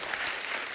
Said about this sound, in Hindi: गुरुदेव की जोरदार तालियां इनके लिए